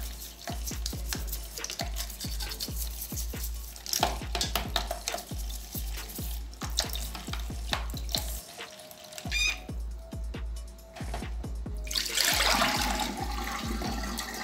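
A hair comb rinsed under a running tap, water splashing steadily with a quick series of rhythmic scrubbing clicks and strokes, close and fairly loud, ending in a louder gush of flowing water.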